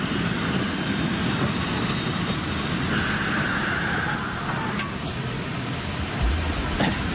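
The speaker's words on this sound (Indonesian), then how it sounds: "Itu keretanya." A train rolls past steadily in an Indonesian-dubbed film scene, a continuous loud rumble of wheels and carriages that holds for the whole stretch without pause.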